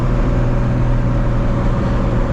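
A 1000HP Toyota Supra MK4 cruising, its engine a loud, steady low drone heard from inside the car, with no change in pitch across the stretch.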